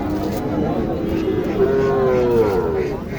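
A Sahiwal cow moos once, long and drawn out, close by at a busy cattle market, with crowd murmur and other livestock noise filling the background.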